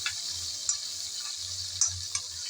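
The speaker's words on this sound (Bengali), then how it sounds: "লবণ আর হলুদ দিয়ে নেড়ে চেড়ে এই চিংড়ি ভেজে নেব।" Shrimp fry in hot oil with turmeric and salt, giving a constant high sizzle. A few sharp clinks and scrapes of stirring cut through it, with a low hum beneath.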